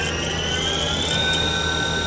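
A 2004 Haas VF5 CNC mill spindle running steadily at 3,000 RPM, a loud, constant high whine with sharp tonal harmonics over a low machine hum, close and uninterrupted.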